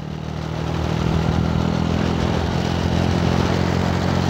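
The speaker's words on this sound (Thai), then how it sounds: "บิดสุดๆแล้วนี่มันลากเกียร์3ครับเกียร์4ไม่มีแรง" A carbureted Honda Wave 100 motorcycle runs at full throttle in third gear on a hot road, a loud, close, continuous engine drone that swells slightly at the start and holds strong.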